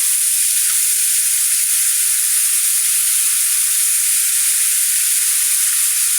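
Spices sizzling hard in hot oil while beef cooks for a raw jackfruit curry, a steady dense crackling hiss with a few faint stirring knocks, no voices.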